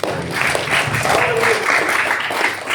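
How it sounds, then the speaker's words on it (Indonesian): A congregation at a Sunday church service claps together in a dense, steady burst of applause that lasts the whole moment, with a few voices mixed faintly into the clapping. "Tepuk tangan untuk Tuhan."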